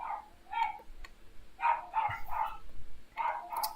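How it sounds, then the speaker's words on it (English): Several dogs bark repeatedly in short bursts somewhat in the distance, with pauses between volleys and no voices. "You can probably hear my dogs barking like crazy."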